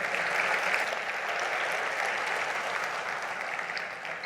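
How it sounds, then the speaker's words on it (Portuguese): Sustained applause from a church congregation after a sermon, a dense, steady wash of many hands clapping that holds at an even level throughout and fades only slightly near the end. "Glória a Deus, pode aplaudir."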